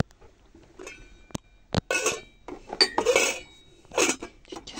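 A small metal saucepan and frying pan clink and clatter in a series of sharp, close knocks and scrapes, irregular and separated by brief quiet gaps.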